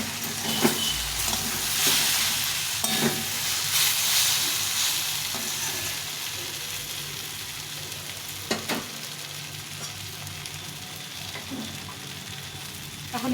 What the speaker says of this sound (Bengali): যতক্ষণ গন্ধ থাকবে মশলা ততক্ষণ কষাবো।